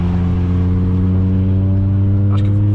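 A Volkswagen Jetta 5-cylinder with a straight exhaust drones loudly from inside the car, a deep steady engine tone holding throughout with a brief rise near the end.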